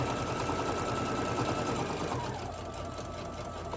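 A sewing machine back stitches close up on a fabric tote bag, giving a rapid, continuous mechanical chatter that eases slightly toward the end.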